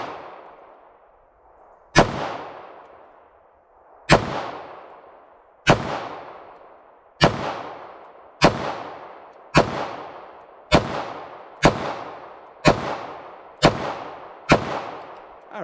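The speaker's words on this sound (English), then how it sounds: "So 9mm, I'll just go for the target on the right with this," A 9mm Taurus G2C pistol fires at a target about 7 yards away: ten sharp, loud cracks, each followed by a ringing decay, spaced one to two seconds apart and gradually quickening.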